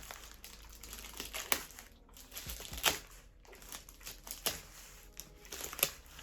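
A heavy parcel lost in the Ukrainian postal service is torn open, its packaging crinkling and crunching in soft irregular bursts, close and quiet, with no speech.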